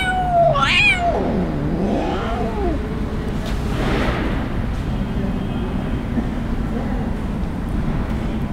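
An abandoned kitten on a street gives several loud, sliding meows near the start, then fainter cries trail off amid steady background noise.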